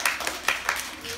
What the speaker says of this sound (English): Oh my goodness, give yourselves a clap.